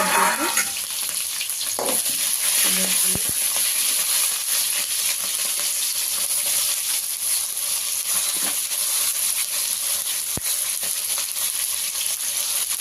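Onion quarters and slit green chillies for sambar fry in hot oil, giving a steady, close sizzle that holds evenly throughout, with a few faint clinks of a utensil and no talking.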